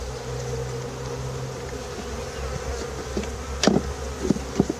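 Honey bees buzz at a hive in an apiary where hives have been knocked over, a dense steady drone of many insects with a few louder knocks and thumps near the end.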